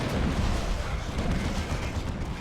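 Heavy artillery-style cannon fire from a plasma cannon tank in the strategy video game Dawn of War 2, a dense continuous rumble of booms and blasts with no clear gaps, loud and close throughout.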